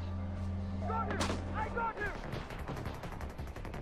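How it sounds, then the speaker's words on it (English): Booming gunfire from the video game Far Cry 4 rumbles loud and close, with a voice speaking briefly in the middle and several sharper shots following. "He tried to shoot at me."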